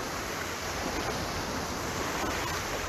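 Steady wash of shallow seawater running in over a beach where someone stands paddling, an even, dense hiss of surf close by with no distinct breaks and no voices.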